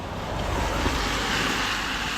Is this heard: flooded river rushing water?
yes